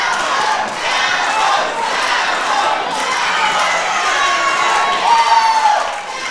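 A wrestling crowd at the Powerhouse in Toowoomba roars and cheers continuously, a dense loud wash of voices that swells near the end.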